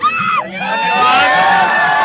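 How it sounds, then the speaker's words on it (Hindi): An outdoor crowd at a village cricket league final cheers, claps and whoops with overlapping shouts and voices, loud and lively, the noise building through the moment. "हम लोग दर्शकों को तालियां बजा के स्वागत करेंगे।"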